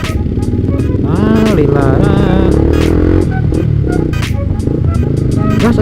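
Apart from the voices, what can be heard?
motorcycle with RC aftermarket exhaust revving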